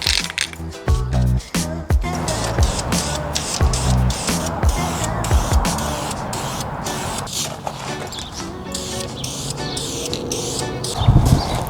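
An aerosol can hisses in steady satin-black spray bursts over car parts for a Mitsubishi Evo 8, with short clicks and pauses between passes, loud and close.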